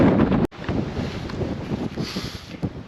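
Wind blowing outdoors beside a hiking trail on the Lycian Way, a loud rushing buffet against the microphone that drops off sharply after a moment, then returns as a lower, uneven rumble with gusts.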